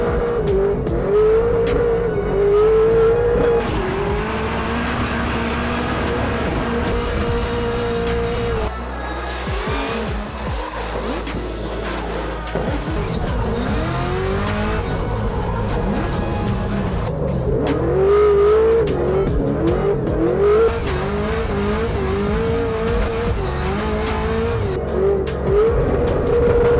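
A drift car at Drift Masters in Riga, Latvia roars loudly at full throttle, engine pitch rising and falling through long slides with continuous tire squeal, close and dominant throughout.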